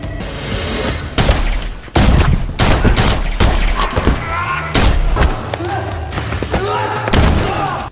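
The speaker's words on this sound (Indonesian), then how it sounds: "baku tembak pun terjadi." Gunfire from a gunfight in a John Wick film comes as rapid loud bursts of shots, heavy thuds and slams, dense and close, with a few gaps between volleys.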